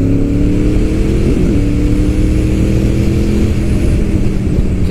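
A motorcycle engine drones loud and near on twisty back roads, holding a steady high-revving hum with a quick shift in pitch partway through.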